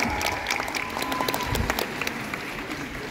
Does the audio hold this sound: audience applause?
yes